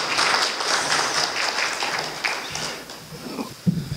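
An audience claps to welcome the chairman of the Korean Public Service and Transport Workers' Union at the opening ceremony of a Korea University labor symposium. The applause is moderately loud at first, then thins and fades, with a few scattered knocks at the end.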